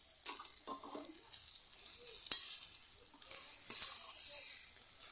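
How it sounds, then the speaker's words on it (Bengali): Gravy fries in a pan as sliced potato and peas are stirred in, a close, steady sizzle with a few scrapes of stirring and no talk. "এই গ্রেভি নাড়তে নাড়তে যখন শুকনো হয়ে আসছে তখন দিয়ে দেবো একটা আলু কাটা আর"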